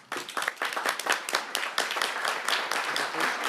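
A city council meeting audience in Tacoma claps after a sudden start, with individual hand claps clearly distinct in a lively, moderately sized round of applause that keeps a fairly steady level to the end.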